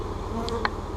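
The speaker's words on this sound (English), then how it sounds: "Now all these bees are just fanning." Honeybees fanning at a laying worker hive after vacuumed bees are added, a steady close buzzing drone with a couple of brief sharper buzzes as individual bees pass near.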